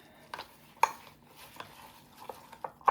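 Sour cream with about three tablespoons of ranch dip mix being stirred in a bowl, giving soft scraping swirls punctuated by several sharp spoon clinks against the bowl, close and alone with no talking.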